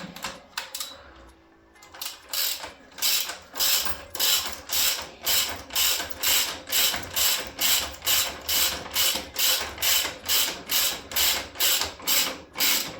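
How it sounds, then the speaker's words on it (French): A ratchet tightens bolts on a Yamaha R7 motorcycle, starting with a few scattered clicks, then a long regular run of crisp close ratcheting strokes in a steady back-and-forth rhythm, with no speech. "On vient resserrer le tout ici, comme ça. On vient tout bien mettre comme il faut. On vient serrer."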